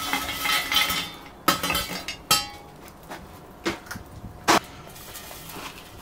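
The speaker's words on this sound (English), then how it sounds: "I'm just going to drop the fatty in" A lamb keema fatty dropped into a Dutch oven, heard as a handful of sharp metallic clanks and knocks spaced irregularly over a quiet background, close and fairly loud.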